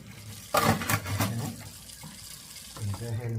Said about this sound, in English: we're going to rinse these off really good.